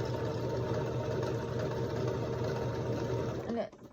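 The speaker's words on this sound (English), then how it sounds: "I'm just gonna take this to my regular sewing machine again" A sewing machine stitches around the bottom hem of a romper sleeve, a steady whirring hum running close and even, then stopping abruptly near the end.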